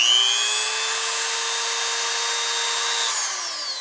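A Goxawee rotary tool running at high RPM gives a steady, loud, high-pitched electric whine with a bright, constant tone that eases slightly in pitch just before the end.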